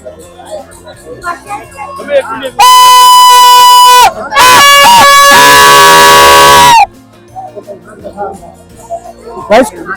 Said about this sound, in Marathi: खूप अशी गर्दी आहे आणि खूप मजा करतो आम्ही पण